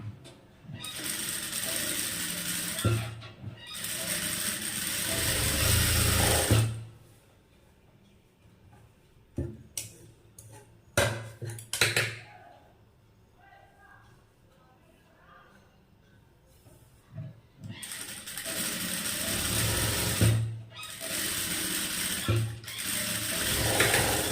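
A tailor's sewing machine stitches cloth in two long mechanical bursts of fast, rattling clatter at the start and end, with quieter handling noises and short clicks in between; no one speaks.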